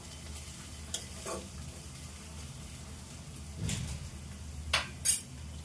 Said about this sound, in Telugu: ప్రజెంట్ అయితే ఆనియన్స్ వేగుతున్నాయి